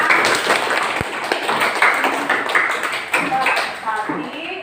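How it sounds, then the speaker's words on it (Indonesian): Schoolchildren in a classroom applaud a group that has just finished presenting, a lively burst of many small hands clapping close by, with a sharp tap early on and children's voices mixed in. "Kasih tepuk tangan."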